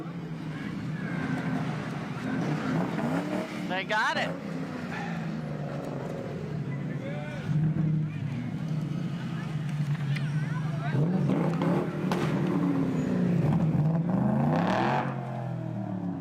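Ford Mustangs from a club rumble and rev while rolling past in a Veterans Day parade, engines swelling and fading over about sixteen seconds amid crowd noise, with people talking and cheering over them.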